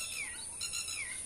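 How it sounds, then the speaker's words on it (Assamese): A gonga chiloni bird calls near rice fields and a village pond, giving a few clear, close whistled notes that rise and fall, with no other sounds over them. "আমাৰ পথাৰৰ ধানবোৰ গংগা চিলনীয়ে মাতিছে শুনক।"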